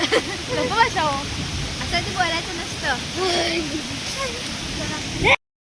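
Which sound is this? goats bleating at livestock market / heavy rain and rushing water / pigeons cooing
heavy rain and rushing water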